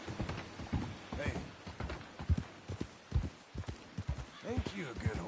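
Horse hooves clip-clop steadily in a PS4 video game while someone talks soothingly throughout; no clear whinny stands out.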